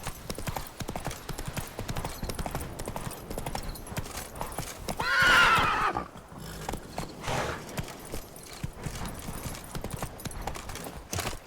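Geralt's horse Roach in The Witcher 3 clip-clops along at a steady gallop, hoofbeats rhythmic and close, then lets out a loud whinnying neigh midway before the hooves carry on, with no talk.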